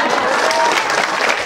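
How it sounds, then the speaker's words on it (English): An audience at a university festival claps together in dense, steady applause, loud and close throughout the short stretch, with no one speaking over it. "let's clap for all those people who came so early just now"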